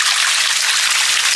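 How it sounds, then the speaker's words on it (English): Water pours into a cement ring water tank with a loud, steady rushing splash, close and continuous, with no voices. "the water goes in here, fills up, and then overflows"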